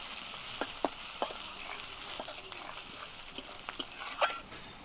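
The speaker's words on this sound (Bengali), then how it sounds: "এই পেঁয়াজগুলো এখন আমি লাল করে ভেজে নেব" Chopped onions fry in oil with a dried red chilli, a bay leaf and cumin seeds, giving a soft continuous sizzle broken by sharp utensil taps and scrapes from stirring, fairly close and alone.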